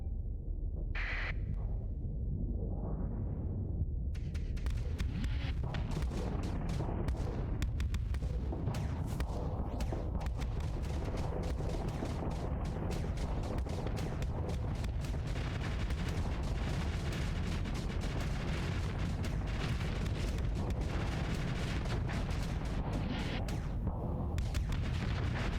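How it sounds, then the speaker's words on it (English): Rocket launcher fire in the space game Starsector rumbles as a dense, continuous barrage of booms and blasts, loud and unbroken throughout with no voices. "Rocket launcher."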